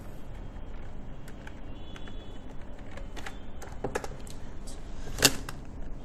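Keys tapped on a computer keyboard while entering Klaviyo into a Google search, a loose run of light clicks over faint room noise, ending in one sharper, louder keystroke.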